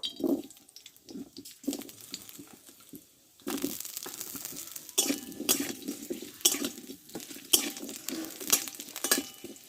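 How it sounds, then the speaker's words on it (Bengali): Potatoes stir-fried in white oil in a pan: a busy clatter of spatula scrapes and sizzling in irregular bursts, close and fairly loud, with brief quieter pauses between spells of stirring. "এবার দেবো আলুটা কষে নেব"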